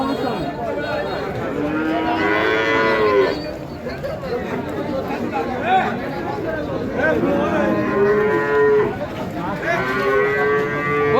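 Friesian cattle on a farm, several long drawn-out moos rising and falling, some near and some a little farther off, over a background of people chattering.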